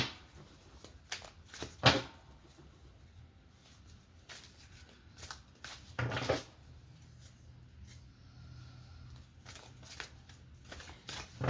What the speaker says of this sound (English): I'm going to shuffle real good.